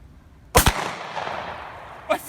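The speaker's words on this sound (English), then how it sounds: "recorded multiple videos of him practicing at an outdoor shooting range" Shotgun blasts at an outdoor shooting range, one sharp loud shot with a quick double crack and long echoing tail, then another shot starting at the end.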